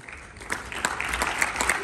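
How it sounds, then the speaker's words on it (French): Audience applause breaks out at a prevention awareness event on fetal alcohol syndrome as a speaker is welcomed onstage, a steady, moderately loud clapping that swells and holds throughout with no talk over it. "vous allez l'applaudir, Sabrina,"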